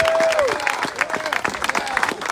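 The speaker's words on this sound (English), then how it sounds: "Give that brother a round of applause." An outdoor crowd at a street dedication for a house music figure in Aurora, Illinois, claps and cheers, with dense applause, whoops and voices rising together, plus a brief tonal whistle or squeal at the start.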